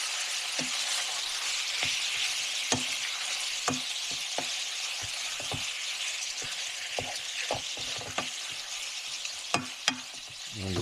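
Ground beef browning in a skillet gives a continuous soft sizzle, broken by frequent spatula scrapes and taps as the meat is moved around, with no talking.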